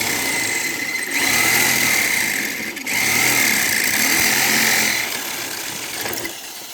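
A drill with a bit boring into a washing machine motor during dismantling, a loud continuous whirring grind that swells and dips in bursts, with a brief pause near the middle and a short slowdown at the end.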